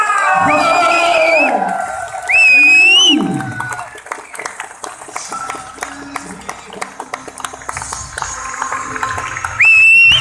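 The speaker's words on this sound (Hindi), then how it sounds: "तालियां रुकनी नहीं चाहिए" A crowd claps and cheers loudly at a corporate celebration event in Gurugram, with bursts of applause rising and falling over a busy background of voices and music.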